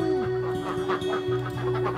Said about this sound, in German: mehr oder weniger als freilaufende, glückliche Enten und Hühner hier unterwegs